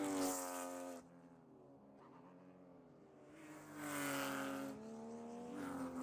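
Porsche Cup race car downshifting hard into a corner on a circuit, engine note blipping and dropping through gears with a brief tire chirp, loud and close, no talk.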